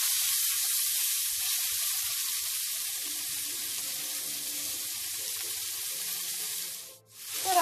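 Sausage and mushrooms frying in a pan for bigos, a steady bright sizzle that runs continuously and close up, with a brief dip near the end, no talking.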